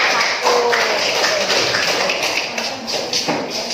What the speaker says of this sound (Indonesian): Jadi tepuk tangan dulu untuk kelompok 1